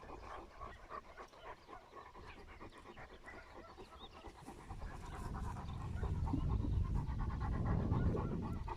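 Safir, a female dog, panting rhythmically close by, quick repeated breaths that grow heavier and louder toward the end.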